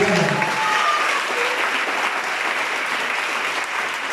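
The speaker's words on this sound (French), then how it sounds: "Je voudrais qu'on porte une forte acclamation à notre Seigneur." A congregation at Mass during a closed retreat breaks into strong, continuous applause and acclamation, loud and steady across the whole stretch with a hint of voices mixed in.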